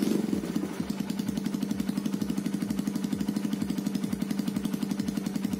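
A Kawasaki KLX 150 motorcycle engine starts and settles into a steady, even idle with a regular close-up putter, heard alone without talk.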